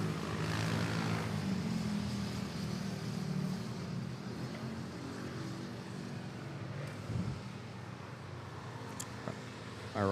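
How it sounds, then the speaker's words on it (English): Ethiopian Airlines Boeing 787-9 Dreamliner at Manila airport, a broad, rumbling jet roar at moderate distance that holds steady and slowly fades. "Oh, this one is a 787-900."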